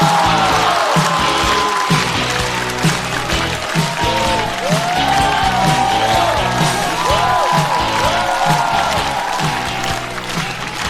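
A live stand-up comedy audience applauds and cheers as a comedian is welcomed to the stage: dense, steady clapping with whoops and crowd noise throughout, and tonal music running beneath it.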